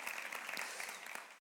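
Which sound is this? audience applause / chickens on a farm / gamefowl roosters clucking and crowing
audience applause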